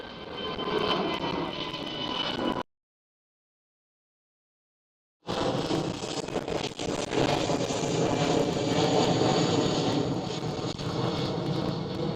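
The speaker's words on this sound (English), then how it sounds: "EasyJet with a takeoff." An EasyJet airliner takes off at Schiphol airport, a loud steady roar of jet engines with wind noise, broken by a few seconds of total silence before the roar returns just as strong.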